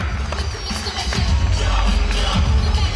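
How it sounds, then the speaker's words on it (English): Crowd at an outdoor charity street ball game applauding and cheering the host, a dense, steady mass of clapping and crowd noise with a heavy low rumble. "Give him a round of applause for coming out, y'all"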